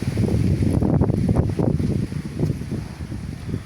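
Strong wind buffets the microphone in a continuous low rumble, loud and gusty throughout, on a hilltop climb at Natividad, Pangasinan.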